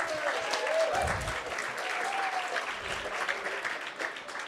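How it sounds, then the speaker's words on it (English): Sustained applause from a large audience at a 2024 Sunday general assembly in Albania, the crowd clapping for itself; a continuous dense roar of clapping with faint cheers and whoops mixed in, holding steady across the whole stretch. "Now I want a big round of applause for yourselves."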